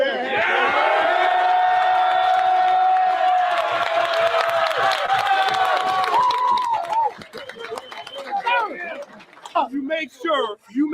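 A football stadium crowd roars after a Chicago Bears playoff win over the Green Bay Packers, a loud, dense wall of cheering and whistles that thins into scattered shouts and voices toward the end.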